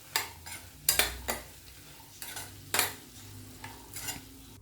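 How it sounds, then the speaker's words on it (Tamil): White karamani (black-eyed peas) with turmeric, salt and chili powder are stirred in a pan, a spoon giving sharp scraping clinks in a quick irregular series over a faint low sizzle, close and without talk. "இப்போ இது எல்லாத்தையும் சேர்த்து நல்லா கலந்து விட்டுக்குவோம்."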